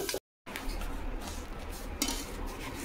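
A metal lid goes onto a cooking pan in a home kitchen, with a brief clink of metal and utensils over a low background hiss, after a short silent gap at the start.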